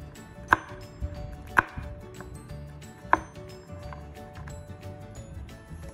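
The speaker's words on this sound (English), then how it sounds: "now it's time for roughly chopping the garlic cloves" A knife roughly chops garlic cloves on a board for pesto, a few sharp, uneven knocks standing out from a quiet kitchen background.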